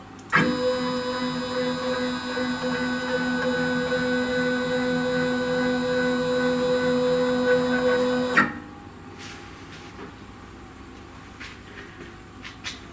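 A GRBL-controlled CNC machine drives its X and Y axes through a 200 mm move, giving a steady, loud multi-tone stepper whine that holds evenly for about eight seconds, then stops abruptly, leaving faint room noise and a few small clicks.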